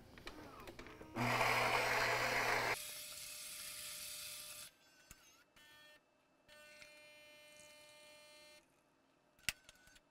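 A Gaggia Anima espresso machine brewing a double-strength espresso: a loud grinding burst, then a steady motor hum and pump drone, a quieter lower whir later, and a couple of sharp clicks at the end.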